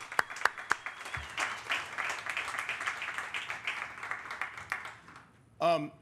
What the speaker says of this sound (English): Can we go ahead and give those folks a hand of applause?